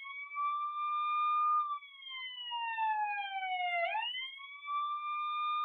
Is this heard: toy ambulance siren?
yes